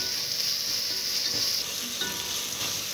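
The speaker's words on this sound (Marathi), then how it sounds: "एकदा व्यवस्थित आपण परतवून घ्यायचं आहे।" Ginger and garlic sauté in oil in a pan for dal khichdi, a loud, continuous sizzle with occasional stirring scrapes and no voices.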